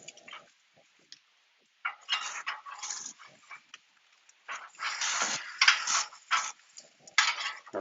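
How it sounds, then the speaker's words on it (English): Barbecue ribs flipped in a pan with a metal spatula: scattered scrapes and clanks of metal on the pan in short bursts, close and fairly loud, with gaps of near silence between. "Give them a flip over."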